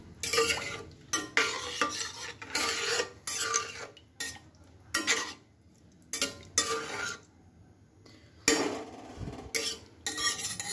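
Millet and water are stirred in a metal pot in repeated bursts of scraping and sloshing, each a second or so long, separated by quieter pauses, close and clear with no talking.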